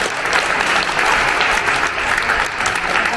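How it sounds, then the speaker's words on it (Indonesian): Steady, loud applause from a church pilgrimage group visiting a holy site in Cairo, a dense wash of many hands clapping continuously and close by, with no break and no clear voices. "Tepuk tangannya tuh harus tepuk tangan paling meriah"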